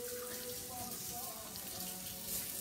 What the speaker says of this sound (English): Let me wash my hand a little bit.